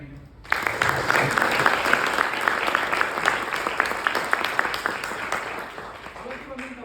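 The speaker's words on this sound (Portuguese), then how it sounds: "Uma salva de palmas para mim." Audience at a motivational talk in Luanda bursts into sudden, dense applause that starts abruptly and continues steadily with sharp individual claps standing out, tapering slightly toward the end.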